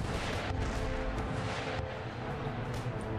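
Repeated booming mortar and artillery fire in the Empire Total War strategy game, dense overlapping blasts rolling continuously at loud volume with no talk.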